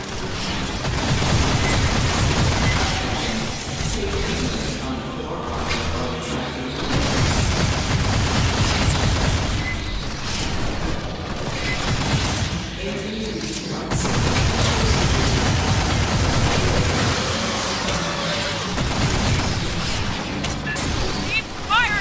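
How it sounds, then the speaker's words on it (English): Sustained loud gunfire and booming blasts in the Aliens: Fireteam Elite shooter, a dense continuous barrage with explosions layered under in-game voices and radio chatter throughout. "Keep firing!"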